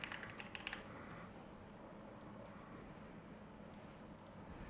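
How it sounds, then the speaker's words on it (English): A quick burst of close computer keyboard typing, several rapid clicking keystrokes at the start, then a few scattered soft key taps over a quiet background. "I'm just going to type in loading."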